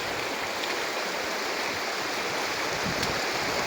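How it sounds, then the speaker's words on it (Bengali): A strong hill stream in spate near a waterfall after two days of rain, its murky water rushing in a loud, unbroken roar that fills the clip with no voices. "প্রচণ্ড স্রোত, পানিটা স্বচ্ছ না।"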